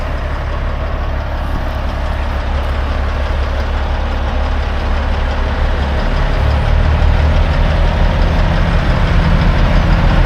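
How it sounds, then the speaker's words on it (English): A truck's engine idles steadily at close range, a continuous low rumble with a faint knocking texture, holding level throughout with no talk over it. "Man, that truck sounds good."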